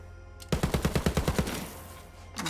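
Burst of rapid automatic gunfire in the video game Borderlands 3, about ten loud evenly spaced shots over one second, then a decaying tail and near silence with no talk.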